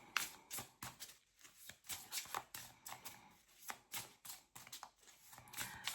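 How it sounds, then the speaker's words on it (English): A deck of tarot cards is shuffled by hand, close and fairly quiet, in rapid irregular riffles and soft slaps repeating throughout. "Just giving these a little more of a shuffle"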